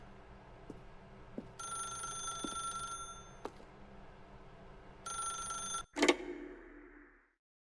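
An old-style telephone bell rings in the video game The Stanley Parable, two bursts of bright ringing separated by a pause over faint ambience, ending with a clunk as the receiver is picked up.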